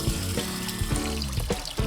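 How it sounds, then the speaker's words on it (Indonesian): Glutinous rice washed by hand under running tap water, the stream splashing steadily while grains are stirred and sloshed, producing several soft watery bursts up close. "Beras ketan yang telah bersih harus dicuci pada air mengalir."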